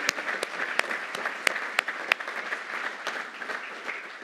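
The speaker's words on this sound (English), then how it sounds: "Can we a round of applause for this presidentially appointed commission?" Audience applauding at a U.S. Army Corps of Engineers ceremony for a presidentially appointed commission, a moderate, even patter of clapping with a few sharper individual claps standing out near the front.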